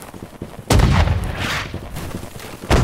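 A heavy cannon booms in the line-battle war game Holdfast: Nations At War. One loud blast is followed by a long rumbling tail, and a second blast starts near the end, with no voices.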